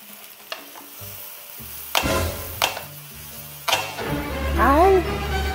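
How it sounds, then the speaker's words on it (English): Rice stir-fries in a hot pan with steady sizzling, broken by several sharp knocks and cracks as a wooden spoon strikes the pan and snaps; a voice briefly exclaims near the end. "Nabasag yung aking wooden spoon."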